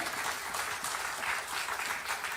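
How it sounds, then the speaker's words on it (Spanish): A church congregation applauds together, a dense and steady wash of clapping hands from a crowd filling the room without any break, with no voice heard over it. "dale un aplauso al Señor"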